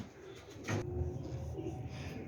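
Soft Royal Teddy pigeon cooing, faint and low, over a steady murky background hum.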